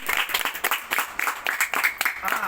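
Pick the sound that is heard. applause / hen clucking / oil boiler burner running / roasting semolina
applause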